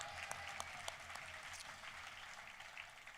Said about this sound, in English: Please, a big round of applause for Dr.